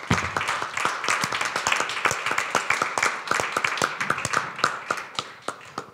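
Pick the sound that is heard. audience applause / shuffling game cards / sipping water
audience applause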